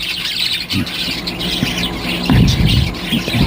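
About forty small pet birds chirp and squawk nearby in short bursts, a busy twittering over a low background rumble.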